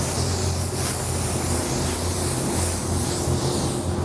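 Steady spray-gun hiss laying down a coat of white sealer on a buoy, a continuous broadband rush that holds evenly for about four seconds with no talk.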